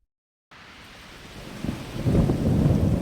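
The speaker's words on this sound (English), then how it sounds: "all we could hear was rain and water crashing against the ark" Rain and water crash against a wooden ark, starting after a moment of silence as a soft wash and building to a louder, surging roar with rolling low thuds.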